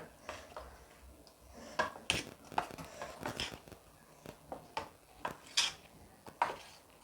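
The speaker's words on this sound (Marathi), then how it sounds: "आता हे सर्व भाज्या मिश्रणामध्ये मी मिक्स करून घेते" Vegetables that have cooled being stirred into a moong dal batter, heard as soft, irregular clinks and scrapes of a spoon against a bowl at close range, alone with no voice.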